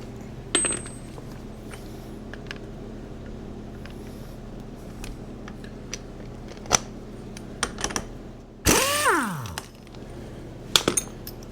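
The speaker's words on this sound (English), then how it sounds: "We have to switch to the air cat." Aircat pneumatic impact wrench on the axle nut of a 2006 Polaris Sportsman 500 ATV, one loud, close burst of rattling hammering lasting about a second, preceded and followed by scattered metallic clinks of tools.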